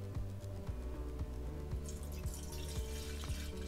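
Tap water at about 15.5 °C runs steadily into a pot for a stove boil test, a continuous splashing pour with a rhythmic low gurgle as the level rises, close and fairly quiet with no talking.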